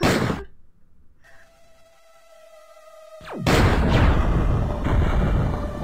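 Bombs exploding in a Platypus shoot-'em-up video game, with a loud burst, a near-silent gap broken by a thin ringing tone, then a heavy rumbling blast that carries on as a sustained roar.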